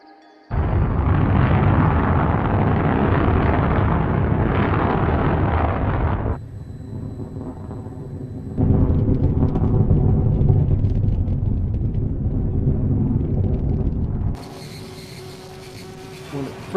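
SpaceShipOne's rocket motor firing after release from the White Knight carrier aircraft, a loud, sustained roar that holds steady for several seconds, then drops in level and surges again before thinning out.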